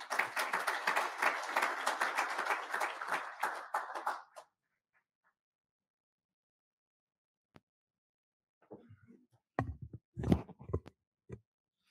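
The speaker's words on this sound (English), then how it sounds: "So please join me in a round of applause for Mac McCurry." Audience applause at an Army aviation event, a dense burst of clapping for about four seconds that stops abruptly, followed by silence and a few scattered knocks and handling sounds.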